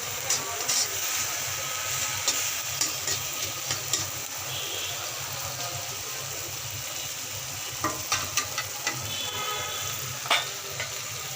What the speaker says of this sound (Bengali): নুডলসের মশলা, ম্যাগি মশলা দিয়ে ভালো করে নাড়িয়ে মিক্স করে নেব।